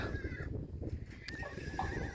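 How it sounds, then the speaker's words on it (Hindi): Horses whinny amid a busy outdoor scene at a horse race gathering in Vekriya Rann, with a high drawn-out neigh standing out over steady low rumble and hoof noise. "काफ़ी घोड़े आ रहे हैं"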